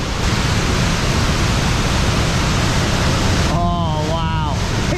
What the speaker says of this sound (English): The high force waterfall.